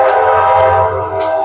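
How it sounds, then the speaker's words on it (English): A train horn blows in one long, loud, steady blast that holds for the whole stretch, heard in a garage workshop where a 1957 Chevy Bel Air chassis is being reassembled. "that guy with that train is like just, he don't know how to let go of the horn"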